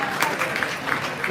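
Audience applauding at an Olympic-style boxing event in Sarcedo after a fighter wins the belt, a brief burst of dense, steady clapping from a crowd close by.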